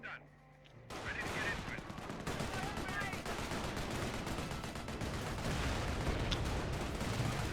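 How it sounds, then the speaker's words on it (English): Sustained, loud machine gun fire and overlapping gunshots in the World War II strategy game Company of Heroes, firing continuously with dense battle noise after a brief quiet start. "there's a machine gun in this medical bunker"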